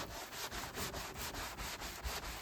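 An old wooden box being scrubbed by hand, a steady back-and-forth brushing rasp in a quick regular rhythm, close and fairly quiet with no voices.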